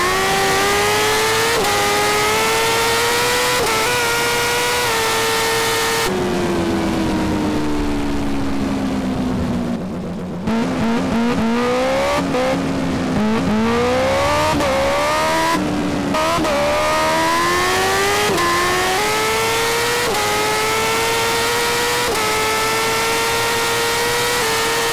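A BMW S1000RR superbike in a GTA video game, its engine note climbing repeatedly through the gears, dipping on shifts and surging again, loud and close with no talk over it.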